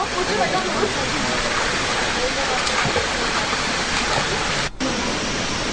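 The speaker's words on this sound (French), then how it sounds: "Nous avons là une fontaine." A water fountain on the trail at La Soufrière volcano in Guadeloupe runs in a steady, loud splashing rush that fills the clip, with a short break near the end.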